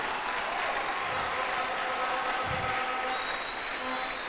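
A church congregation at a French-language youth gathering applauds the Lord, and the clapping rises into a steady, diffuse wash of hands that fills the room throughout with no voice over it.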